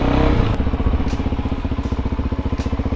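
A Suzuki DRZ supermoto motorcycle pulls away in traffic, its single-cylinder engine thumping in a steady, rapid, pulsing rhythm close by as it accelerates.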